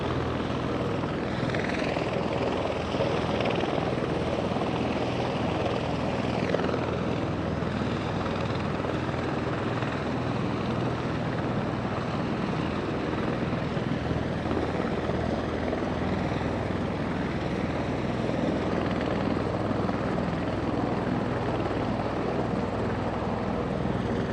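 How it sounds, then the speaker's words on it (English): Marine One, the presidential helicopter, lifting off and pulling away from the main runway at Brunswick Executive Airport beside Air Force One, a loud, steady rotor and turbine roar filling the whole stretch without a break. "As Marine One begins to pull off away from the main runway right by Air Force One."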